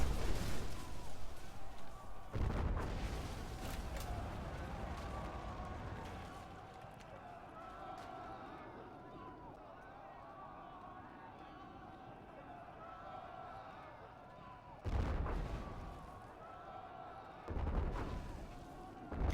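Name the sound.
base being destroyed by artillery, Rise of the Reds video game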